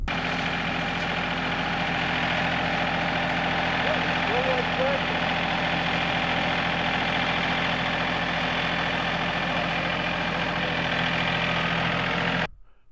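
A tractor engine idles with a steady low chugging hum while moving pumpkins, nearby and unchanging, then cuts off abruptly at the end.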